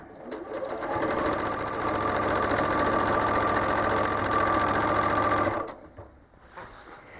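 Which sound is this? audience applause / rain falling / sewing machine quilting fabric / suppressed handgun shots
sewing machine quilting fabric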